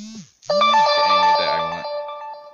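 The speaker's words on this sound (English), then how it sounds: "I forgot to mute my phone." A mobile phone ringtone goes off during a Pokemon Moon gameplay session: a bright, loud melodic electronic tune with sustained tones, briefly preceded by softer game music.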